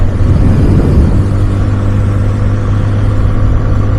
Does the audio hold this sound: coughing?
no